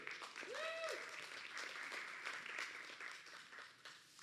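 Outdoor crowd applause greets a former festival princess at a festival kickoff auction, steady broadband clapping lasting several seconds with a brief whistle-like tone near the start.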